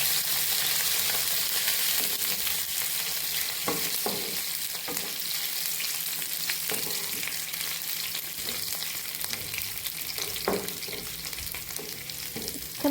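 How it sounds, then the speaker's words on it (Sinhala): Curry leaves and pandan (rampe) sizzle and crackle steadily in hot oil in a pan, with occasional stirring knocks and scrapes throughout. "දැන් මේක බැදෙන්න දෙනවා"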